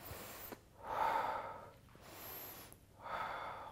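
Forceful breaths during an arm-toning exercise: two loud, drawn-out exhales about two seconds apart with a quieter inhale between, close and alone with no talk.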